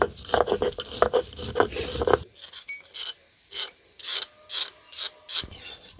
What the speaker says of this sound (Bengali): ঝালগুলো এখন আমি পাটায় পিষে নেব।